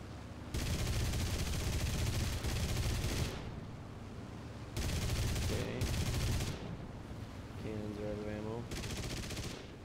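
Rapid automatic aircraft cannon and machine-gun fire in War Thunder, loud sustained bursts in the foreground separated by short pauses, with engine drone continuing underneath.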